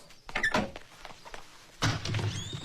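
A door being opened indoors in a house: a couple of quick thuds and knocks, then a louder bump and rattle of the door moving, close and fairly loud with no one speaking.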